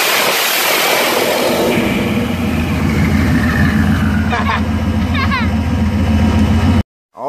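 A car engine fitted with a water/methanol injection setup, heard close and loud as it rises and holds at a high rev. The sound runs steadily for several seconds before cutting out abruptly near the end.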